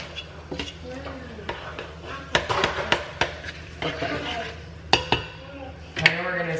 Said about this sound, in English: I'm gonna go ahead and put some butter in there.